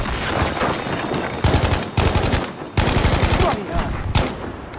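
Battlefield V online multiplayer firefight with rapid automatic gunfire in several loud bursts separated by short pauses, close and dense, with faint voice underneath.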